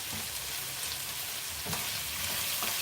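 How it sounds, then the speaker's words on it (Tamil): Steady frying sizzle in hot oil after a splash of vinegar, a dense continuous crackle with occasional stirring clatter, close and fairly loud, with no voices. "நல்லா ஃப்ரை பண்ணிக்கோங்க"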